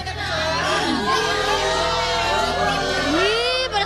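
A studio audience at an Indonesian TV show shouts and cheers loudly and continuously, a dense mix of many voices with rising whoops.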